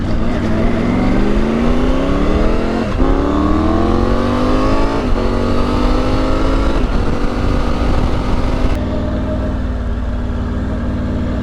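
A 2024 Tiger 900 Rally Pro motorcycle with a GPR Furore-X titanium slip-on exhaust revs up repeatedly, pitch climbing in several rising sweeps before dropping back to idle, loud and close with no speech.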